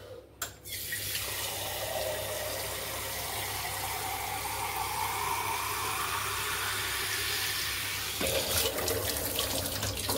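Water pours steadily onto potted plants in a continuous splashing stream for several seconds, then the flow shifts and briefly turns choppier near the end, with no talk.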